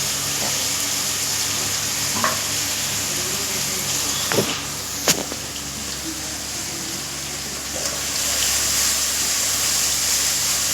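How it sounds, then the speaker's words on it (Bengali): Amudi fish curry sizzles steadily in hot oil in a wok, a continuous frying hiss with a few brief clinks and stirring knocks partway through. "মাছটা ভেজেও নিয়েছি, কড়া করে আমুদে মাছের ঝাল রান্না করছি।"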